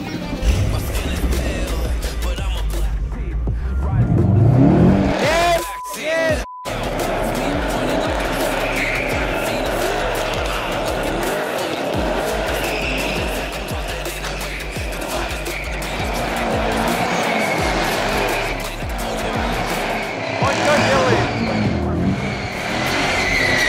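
A newly bought car revs hard and accelerates, tires squealing in a long skid, with loud engine roar throughout and people shouting over it.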